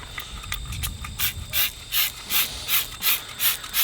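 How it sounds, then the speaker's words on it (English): Foaming detergent sprayed from a trigger sprayer onto a greasy lawn mower: eight or so evenly spaced hissing spritzes in a steady rhythm, close and fairly quiet, after a brief rubbing sound at the start. "we're going to spray it on"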